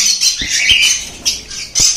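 Cockatiel squawks at a bird shop, a few harsh shrill calls in quick succession with soft flapping and bumps between them, close and loud.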